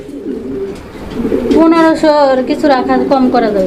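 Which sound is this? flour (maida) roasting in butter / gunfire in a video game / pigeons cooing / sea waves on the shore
pigeons cooing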